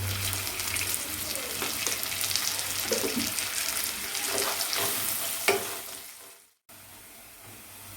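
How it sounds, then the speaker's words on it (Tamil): Sliced onions sauté in a pan for mutton pulao, a steady close sizzle with scraping stirring strokes throughout, briefly cutting out near the end before the frying noise resumes. "அதையும் நம்ம சேர்த்து நல்லா வதக்கிடலாம்"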